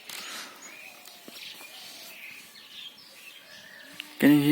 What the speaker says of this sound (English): Can you hear the chirpings of the bird?